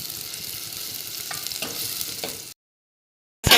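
Chopped onions sizzle and fry in hot oil in a pan while cooking a Maharashtrian gavran chicken dish. The steady, close crackle runs for a couple of seconds, cuts to silence, then a fresh loud sizzle bursts in.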